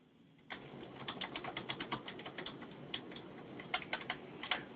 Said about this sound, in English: I think there are a couple of folks who are typing.